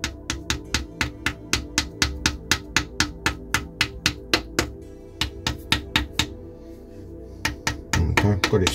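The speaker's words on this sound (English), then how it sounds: "Use a dead blow hammer so it doesn't damage it." Sharp taps from a dead blow hammer on a Mazda MX-5 Mk1 gearbox, struck in a steady, quick rhythm, close by, about two dozen blows, pausing briefly before a few more strikes.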